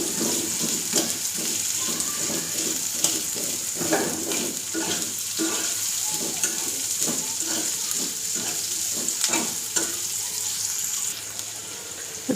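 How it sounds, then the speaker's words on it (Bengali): Garlic and chopped onion fry in a pan with a steady sizzle, broken by regular scraping strokes of stirring, close and fairly loud, with no talking. "রসুনগুলো আগে দিয়ে হালকা একটু ভাজা ভাজা হয়ে আসলে তারপরে এ পর্যায়ে দিয়ে দেবো পেঁয়াজ কুচি"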